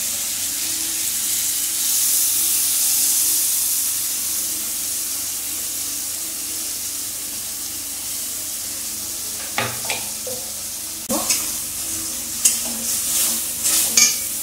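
Poppy seeds frying in a hot pan, a continuous hiss and sizzle that gradually eases, then a series of sharp spatula scrapes and stirs toward the end, close up with no voices.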